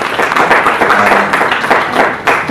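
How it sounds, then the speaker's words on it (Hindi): Applause breaks out to welcome a speaker at a gathering in Nagpur, a dense, sustained wash of many hands clapping, loud and close, with a little talk mixed underneath. "औरंगाबाद से उनके लिए एक बार तालियां बजाकर उनका स्वागत कीजिए।"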